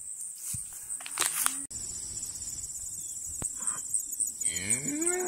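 Cattle in a pasture, thirty cows on five acres, moo loudly close by, with crickets chirring steadily in the background.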